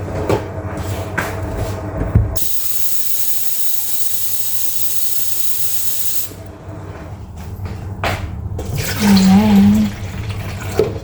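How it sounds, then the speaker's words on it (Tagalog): Water runs in a steady hissing stream for several seconds while coffee is being made in a home kitchen, bracketed by clanks, knocks and handling noises before and after. "Maglalagay tayo ng tubig."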